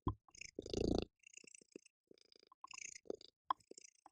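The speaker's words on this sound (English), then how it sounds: "She's so loud when she purrs." A pet cat purring loudly right next to the listener, in uneven rumbling bursts separated by brief quiet gaps.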